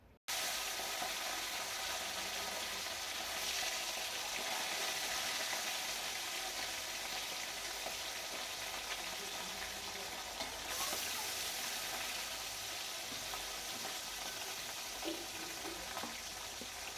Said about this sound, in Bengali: তো তেলটা এখন গরম হয়ে গেছে, এবার এর মধ্যে আমি দেবো মাছ। তো মাছগুলোকে আগে ভালো করে লাল লাল করে ভেজে নেব।